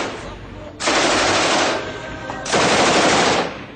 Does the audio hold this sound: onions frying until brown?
no